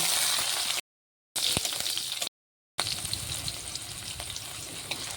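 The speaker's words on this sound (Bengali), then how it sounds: "ক্যাপসিকামটাও ভেজে নেব।" Capsicum frying in oil for a paneer vegetable dish: loud, continuous hissing sizzle close up, broken by two short gaps, with no voices.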